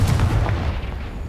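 Confringo fire spell blast from Hogwarts Legacy gameplay: a dense, booming burst with a low rumbling body and crackling texture that holds steady, loud and close, for over a second.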